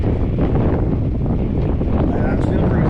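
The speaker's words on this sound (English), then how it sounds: "It's getting really windy" Strong wind buffets the microphone along the Lake Trail at night, a dense, steady low rumble filling the whole clip without pause, loud and close.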